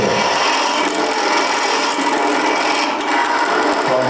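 A spindle gouge hollows wood on a lathe, giving a steady, loud, close scraping hiss of cutting and shavings that runs continuously without talk.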